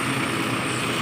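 An engine running at raised RPM of about 1300 to 1850 to drive a vacuum pump, giving a steady, even drone with a broad hiss that holds without change throughout.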